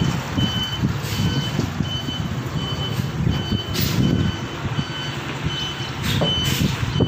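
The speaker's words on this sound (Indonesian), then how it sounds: "dia takut tuh ada bis, ada tronton tuh mau parkir deh" A heavy tronton truck parking in Taiwan sounds its reversing alarm, a high repeating beep over a deep idling engine rumble, with faint higher squeals near the middle and end.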